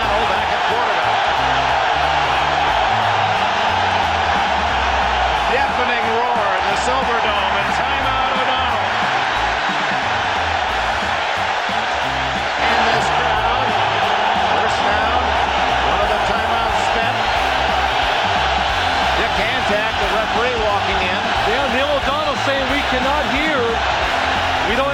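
A Detroit football stadium crowd roars loudly and steadily throughout, a dense wall of cheering with scattered shouts and voices never letting up.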